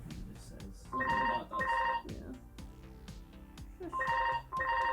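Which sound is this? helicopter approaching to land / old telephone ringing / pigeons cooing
old telephone ringing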